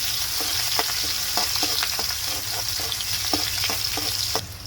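Onion and a green chili frying in oil in a pan with bay leaf, a continuous close sizzle broken by regular scraping clicks of a spatula stirring.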